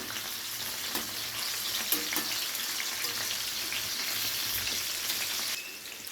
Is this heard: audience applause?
no